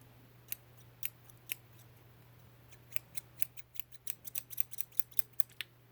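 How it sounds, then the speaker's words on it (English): Crisp, close scissor snips in a quiet room during a haircut, a few spaced cuts at first, then a rapid run of snipping toward the end. "And then I have my pair of handy dandy scissors."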